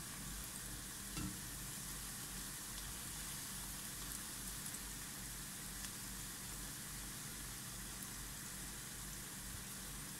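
Spicy sausages fry in a pan, a faint, steady sizzle and crackle that runs continuously with occasional small pops, low in level and without any voices.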